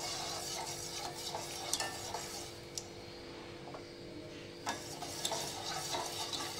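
Sugar syrup for jalebi being stirred in a pot on the stove, with soft continuous scraping and swirling, faint clinks of the spoon against metal, and a low simmering hiss, with no talking.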